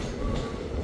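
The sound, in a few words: passenger train running through forest in Karnataka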